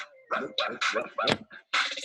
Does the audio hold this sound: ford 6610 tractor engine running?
no